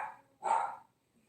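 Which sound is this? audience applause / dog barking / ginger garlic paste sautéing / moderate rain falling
dog barking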